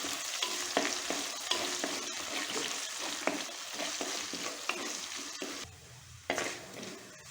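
Ginger and garlic sizzle in hot oil with curry leaves for a restaurant-style fish curry, a spoon scraping and stirring the pan in quick repeated strokes over a constant crackling fry, briefly quieting near the end.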